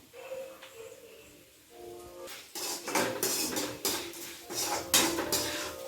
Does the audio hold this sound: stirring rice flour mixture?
yes